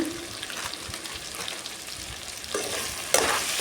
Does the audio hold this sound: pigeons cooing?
no